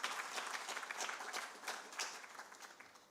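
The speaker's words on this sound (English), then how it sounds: "I think you deserve a bigger round of applause." Sustained applause from the audience at a national food security and nutrition assessment launch, honouring a presentation team; a dense, steady wash of many hands clapping, fairly distant, with no voices over it.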